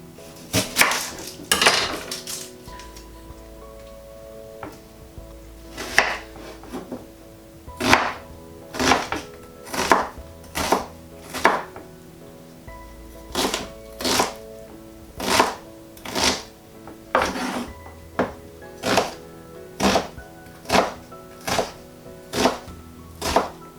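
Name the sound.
knife chopping onion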